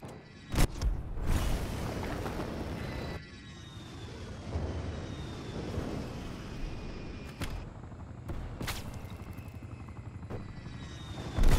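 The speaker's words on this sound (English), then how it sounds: "Hostile attack helicopter inbound." An attack helicopter in the video game Call of Duty Cold War roars loudly with dense rotor thumping that fades and swells steadily throughout, broken by a few sharp gunfire bangs, with no voices.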